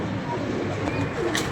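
A pigeon coos softly in a brief burst amid a busy outdoor background, with faint chirps from other birds nearby.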